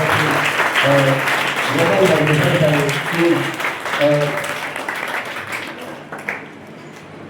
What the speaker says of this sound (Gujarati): આપ સર્વે બધાને ખૂબ તાળીઓના ગણગણાટથી વધાવીએ